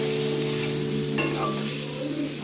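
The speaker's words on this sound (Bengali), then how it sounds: "দেখো, আমি ভালো করে মিশিয়ে নিচ্ছি মশলাটাকে।" Spices being stirred into pointed gourd curry frying in a pan, with a steady close sizzle and scraping stir strokes throughout, no voices.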